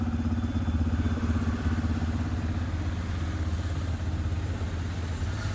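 Vehicle engine held at about 2000 rpm, a steady mid-pitched hum with a faint clattering tone, continuous and close for the whole stretch with no voices.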